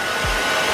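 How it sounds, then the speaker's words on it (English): A Philips HP8230 ThermoProtect 2100W hair dryer runs on the cool setting at maximum speed, giving a steady, loud, close airy whoosh with a constant motor hum and no talking. "the cool button automatically puts the hairdryer in the maximum speed and it blows cool air"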